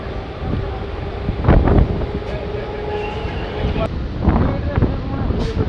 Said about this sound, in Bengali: মাত্র কয়েক সেকেন্ড দাঁড়ানোর পরই কামনাড়া স্টেশন থেকে ট্রেন ছেড়ে বেরিয়ে যাচ্ছে